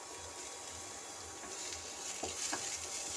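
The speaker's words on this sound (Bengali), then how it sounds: "হালকা পেঁয়াজটা ভাজা হয়ে গেছে, আমি এর মধ্যে রসুন কুচিটা দিয়ে দিচ্ছি।" Chopped garlic sizzling in hot oil in a pan with lightly fried onions, a steady close crackle and hiss with a few soft stirring taps toward the end, no voices.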